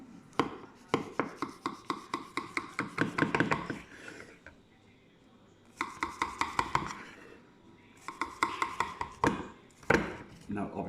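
A knife cuts into a homemade chicken and mushroom pie with quick, crisp crunching and tapping strokes against the crust and dish, coming in short bursts separated by pauses, close and fairly quiet.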